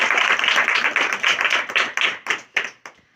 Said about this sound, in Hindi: आइए हम यीशु के जलाल के लिए जोरदार ताली बजाएं।